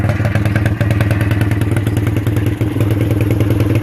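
A Suzuki LT 125 ATV engine runs steadily around a yard, a loud rapid chugging putter close by with a slight dip partway through, no talking.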